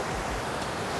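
Water falls at a man-made garden waterfall in Brisbane's Roma Street Parklands, a steady broadband wash of splashing and rushing that sounds close and constant for a brief moment.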